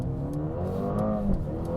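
The engine of a 2021 Mercedes-AMG A35 sports sedan hums and revs steadily from inside the cabin while driving, its pitch rising slightly and holding with no voices.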